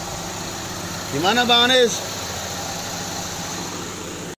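A 2000 Hyundai Trajet's engine idles in a steady, even hum throughout, with someone briefly speaking over it.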